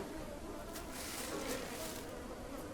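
Flies buzzing around maggots on a rotted animal carcass in the jungle survival game Green Hell, a faint, steady insect drone with a muffled, noisy low rumble underneath and no voices.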